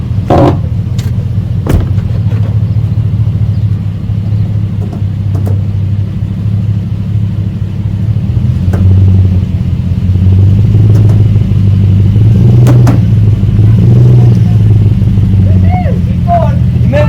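A 1979 Pontiac Trans Am, parked in a garage for over a decade, has its engine running with a steady low rumble throughout, while voices talk over it now and then.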